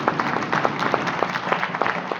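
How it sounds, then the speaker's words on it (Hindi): An indoor audience at a sales event claps for Thailand trip achievers, giving a steady patter of many hands at a fairly even rhythm, close and moderately loud. "एक शानदार ताली थाईलैंड अचीवर्स के लिए होनी चाहिए"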